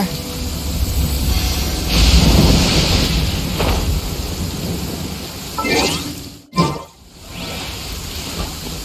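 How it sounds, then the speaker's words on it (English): Stormy weather in Genshin Impact, with steady rain hissing across the whole stretch and rumbles of thunder, including a sharp crack near the end, while a voice talks faintly underneath. "It always rains when I go on an adventure."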